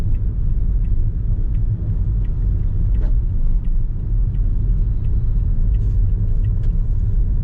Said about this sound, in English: All that traffic.